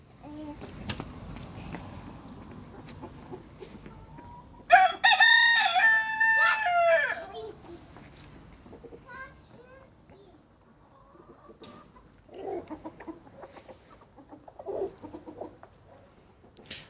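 Chickens hatched from an incubator cluck and mutter, and a rooster lets out one loud, close crow in the middle. A voice and other chatter come faintly in the background.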